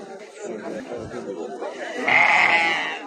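At the Maştağa livestock market, male lambs bleat close and loud, a swelling cry near the end, amid steady crowd chatter and talking people.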